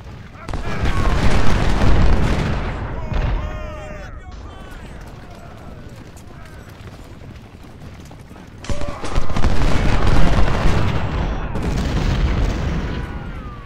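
Heavy booming cannon artillery bursts in the video game Ultimate General: Civil War come in two loud waves, separated by a quieter stretch, with talking mixed in among the blasts.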